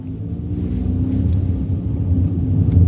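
Chevrolet Cruze driving at low speed with a steady low engine rumble that builds slightly as it pulls away, its transmission upshifting too early, heard from inside the car without speech.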